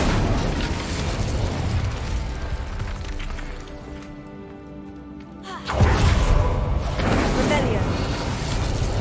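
In Hogwarts Legacy an Incendio fire spell erupts with a sudden loud burst partway through, following a quieter stretch of game ambience, and stays dense and roaring to the end.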